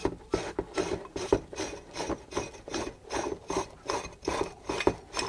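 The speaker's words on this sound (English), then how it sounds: "And then all of this is going to get screwed together." Ball joint press tool being screwed together against a lower A-arm of a Workhouse P32, a steady rhythmic rasping and ratcheting in repeated strokes, close and moderately loud with no talking.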